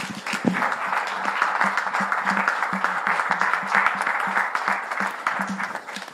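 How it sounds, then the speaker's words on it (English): A church congregation claps together at the close of a service, a brisk, steady run of hand claps from many people that holds for several seconds before tapering slightly. "Give the Lord a big hand clap today."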